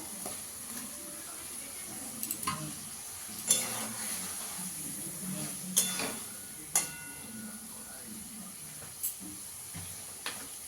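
Eggplant and fish go into a pan of sizzling spiced masala for a Bengali parshe fish curry in oil, with a steady close frying hiss and a few sharp spoon scrapes and clinks as the mix is stirred.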